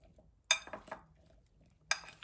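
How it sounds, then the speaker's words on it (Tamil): A spoon mixing dressing into a chickpea salad in a bowl, with two bright clinks against the dish and soft wet stirring in between, close and fairly quiet. "இப்போ ட்ரெஸ்ஸிங்கை சலாட்டோட மிக்ஸ் பண்ணுவோம்."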